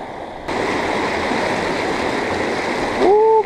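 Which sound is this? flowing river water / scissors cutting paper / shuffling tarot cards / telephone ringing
flowing river water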